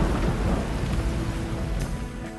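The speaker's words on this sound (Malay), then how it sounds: "Hujan lebat adalah satu punca tanah runtuh." Heavy rain pours down in a loud, dense roar with deep rumbling thunder rolling underneath, steady and close throughout, with no voices.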